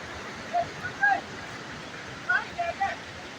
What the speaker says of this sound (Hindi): कुछ गंदे पानी के झरने भी हैं